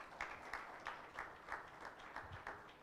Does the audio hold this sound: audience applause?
yes